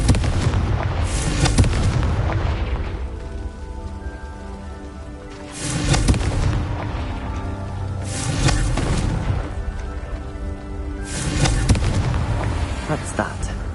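Repeated Confringo blasting-spell explosions from a Harry Potter game, three or four heavy booming bursts with crackling debris tails spaced a few seconds apart over a rumbling game soundtrack.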